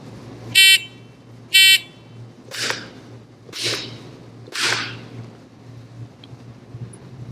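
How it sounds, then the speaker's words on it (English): Two sharp electronic beeps from a shooting shot timer set to one-second splits, followed by three crisp claps keeping the same even one-second rhythm, then quiet. "when I push the button with a 1 second split time, it's going to beep once, then twice"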